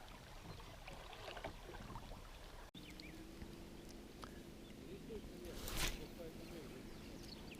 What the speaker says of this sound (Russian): Да, идет лодка с мотором.